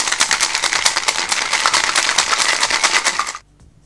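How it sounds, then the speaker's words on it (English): Rapid rattling of ice shaken hard in a cocktail shaker for a martini-glass cocktail, loud and close, steady for about three seconds before stopping abruptly. "then you're gonna shake that well"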